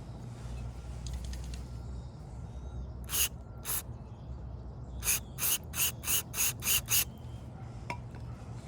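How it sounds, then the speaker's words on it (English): An aerosol can of cleaner fires a short burst at an Infiniti G35 MAF sensor, followed by a rapid run of six short, sharp hissing sprays, close and clear over a quiet background. "Few good sprays."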